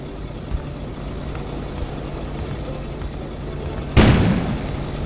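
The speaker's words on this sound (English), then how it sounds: "An explosion suddenly occurred outside." An explosion goes off outside in the Kona video game, a sudden loud boom cutting through a quiet, steady background rumble, then fading slowly over the next second.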